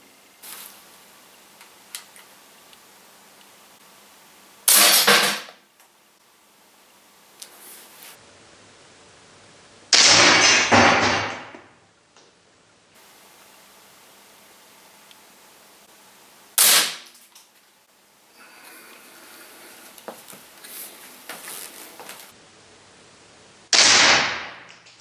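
Four loud rifle shots crack out one at a time, several seconds apart, from a rifle fitted with a Bullseye Zero Recoil scope mount, with quiet rustling and handling between them.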